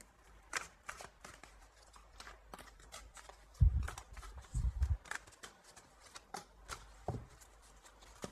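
Tarot cards are shuffled close by in a run of soft, rapid riffling flicks, with a few heavier thumps midway as the deck is handled, and no voice over them.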